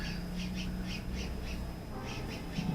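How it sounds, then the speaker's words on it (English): A crow caws outdoors in a quick rhythmic run of harsh calls, a short pause, then another burst, heard faintly from a distance over a steady indoor background hum. "sorry for the annoying bird"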